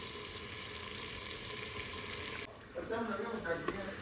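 Chicken liver curry sizzles steadily as it fries in a pan, a dense hiss that drops briefly and returns with a bubbling, crackling texture; a voice talks faintly over part of it.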